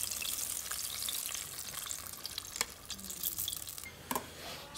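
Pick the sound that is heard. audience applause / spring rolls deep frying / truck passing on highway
spring rolls deep frying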